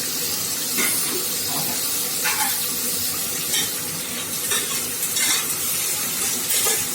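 Green chillies and onions fry in a hot pan as tomato rice is cooked, giving a steady, loud sizzle with bursts of hissing steam and occasional stirring scrapes, with no talking.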